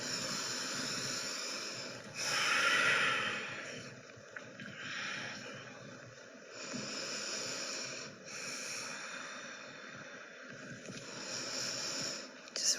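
Deep, steady breathing during a chair yoga session, long broadband breath cycles rising and falling over a constant soft hiss, several inhales and exhales in slow rhythm, fairly close and moderate in level with no talking.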